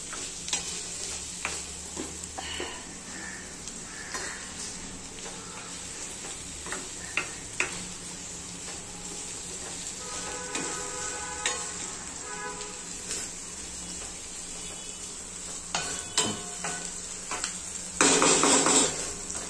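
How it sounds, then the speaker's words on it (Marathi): Spoon stirring and mixing egg kurma ingredients in a pan, soft scraping and light clinks with a gentle sizzle underneath, quiet and intermittent, with a louder clattering swish near the end. "हे सगळे जिन्नस आहेत ना असे एकत्र करून घ्यायचे"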